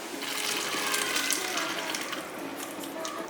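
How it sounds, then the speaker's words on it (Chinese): Blanched tofu and water are poured out of a pot after a minute of boiling in salted water. A steady, close gush of water splashes continuously with no pauses, and no one speaks. "焯水1分钟就把它倒出来。"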